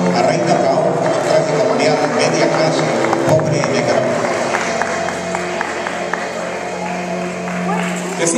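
Audience applause for Grace Trujillo at a school Hispanic Heritage Day event, a steady dense round of clapping that thins slightly toward the end, with background voices and a faint tone beneath.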